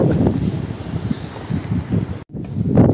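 Strong wind at a castle in Greece buffets the microphone in loud, continuous gusts with low rumbling, dropping out briefly near the end before surging again.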